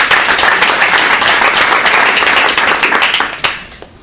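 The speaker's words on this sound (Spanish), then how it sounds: "Así que eso se merece un aplauso." An audience at a book launch for an introduction to Spinoza applauds loudly and densely, the clapping holding steady before thinning out and fading in the final second.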